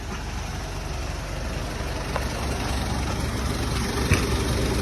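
A lorry sits idling on a highway, its heavy diesel engine giving a low, steady rumble close by that swells slightly with a brief knock near the end.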